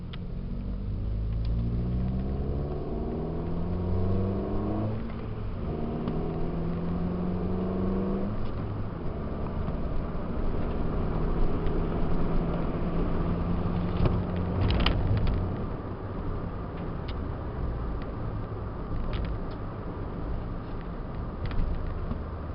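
A 2009 Toyota Yaris with a Tanabe Medallion exhaust drives through a cul-de-sac U-turn, a low steady engine drone with rising and falling pitch as it accelerates and shifts, heard from inside the car.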